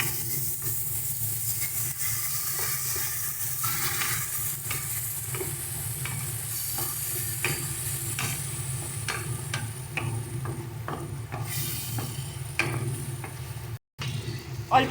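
Tomato paste sizzling in frying spice masala while cooking a rita fish curry, a continuous soft hiss and crackle with occasional spatula stirs and scrapes, fairly quiet and close, no talk.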